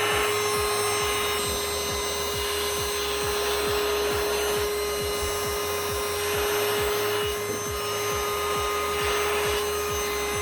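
A PrettyCare vacuum cleaner fitted with a crevice nozzle runs on a studio floor, giving a loud, steady motor whine and airflow roar with rapid rhythmic rattling underneath, continuous for the whole stretch with no speech.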